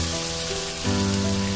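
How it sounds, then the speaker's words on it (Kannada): Three medium-sized finely chopped onions fry in hot cooking oil for a spicy, tangy prawn dish, giving a steady close sizzle with a low hum, and the sizzling thickens and grows louder partway through. "ಚೆನ್ನಾಗಿ ಫ್ರೈ ಮಾಡ್ಕೊಳ್ಳಿ."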